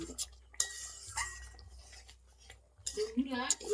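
Pieces of fried taro are stirred into a pan with a utensil, giving scraping and clinking strokes in uneven bursts with a faint sizzle underneath and brief talk.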